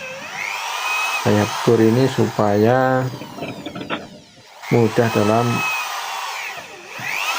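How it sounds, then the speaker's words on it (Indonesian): An electric drill bores a pilot hole in hard wood while a wooden staircase is repaired before nailing. Its brief whining runs come in short spells, with someone talking over and between them. "Namun sebelum saya paku ini saya bor"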